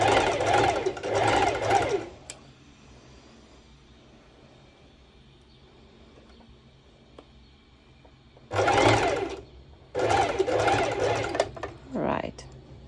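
Sewing machine running a single straight stitch at the longest stitch length on a swim skort, sounding in two close, loud bursts of about two seconds each, with a quiet gap between and talk around them.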